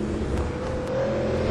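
Race car engine in a GTPro video game at Donington, holding a steady loud drone with a rising whine as it brakes hard from top speed, with no voices over it.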